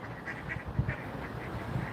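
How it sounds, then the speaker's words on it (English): Ducks quack at a local pond, a few short, faint nasal calls spaced irregularly over quiet outdoor background. "We've got some ducks as well"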